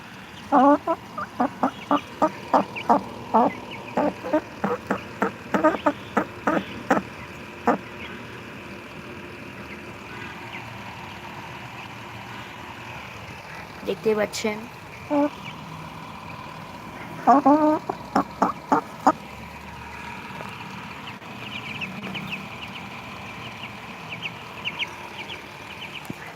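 Hens cluck in rapid rhythmic bursts near their chicks, loud close runs of calls separated by quieter stretches, with someone talking in between.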